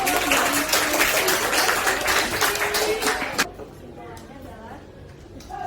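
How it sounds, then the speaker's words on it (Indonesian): A primary school class breaks into loud, dense applause after a maths presentation, the clapping cutting off sharply partway through, followed by quieter room noise and faint chatter. "Ya, beri tepuk tangan."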